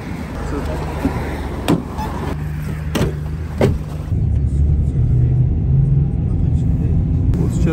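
Car crossing the bridge over the Yenisei on the way to an arena, a steady low road rumble and engine hum inside the cabin with a few sharp knocks and thumps, and people talking over it.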